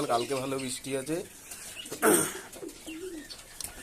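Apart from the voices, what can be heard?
pigeons cooing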